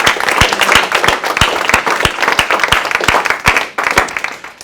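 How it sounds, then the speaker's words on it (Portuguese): Congregation applause at a religious teaching session, dense close clapping that stays steady and loud for nearly five seconds with no talking. "Salva de palmas para Jesus."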